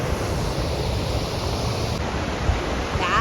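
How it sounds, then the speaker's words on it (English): A glacier-fed waterfall in Iceland roars as a steady, broad rush of falling water heard from nearby, continuous and unbroken. "That is a waterfall."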